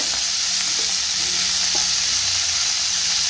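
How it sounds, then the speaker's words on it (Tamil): Curry leaves sautéing in a pan for chutney, giving a loud, continuous sizzle with a few faint clicks of stirring and no talk. "கருவேப்பிலையும் வதக்கிக்கணும்னா அதோட பச்சை வாசனை போகிறதுக்கு"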